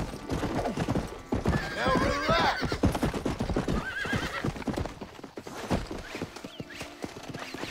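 Horse hooves clip-clopping and a horse neighing in Red Dead Redemption, steady hoofbeats with a couple of whinnies rising over them, fairly close, with game sounds and talk underneath.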